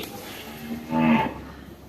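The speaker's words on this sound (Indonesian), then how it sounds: "Nih, sapi yang baru kita dapat dari daerah kita juga" A single loud cow moo from newly acquired cattle at a Central Java farm, rising and swelling near the close, then fading, with no talk.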